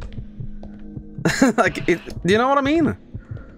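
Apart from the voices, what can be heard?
heartbeat sound in an itch.io video game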